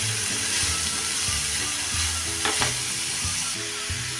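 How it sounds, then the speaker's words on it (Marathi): Radish stir-fried in a pan gives a loud, constant sizzle with repeated scraping strokes of a spatula, close up, no voices. "जसं हा मुळा परतत जाऊ तसा तो मऊ पडतो आणि खाली बसतो"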